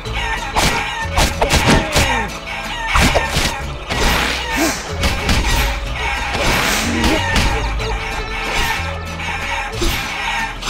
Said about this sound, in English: this is kind of the mini tutorial for how to throw things using the chickens